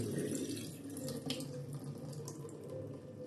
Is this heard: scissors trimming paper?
no